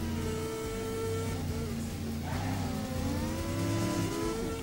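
A Diddy car engine in Disney Infinity's Toy Box video game revs steadily, its rising and falling engine tones layered over game music and racing effects, loud and continuous with no talking.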